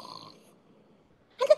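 A short, snorting snore imitated by a voice, two quick bursts near the end after a quiet stretch.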